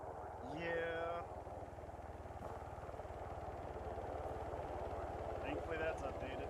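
Military helicopter rotor thudding steadily at a distance as it approaches a training site, a continuous low chop heard under people chatting nearby throughout.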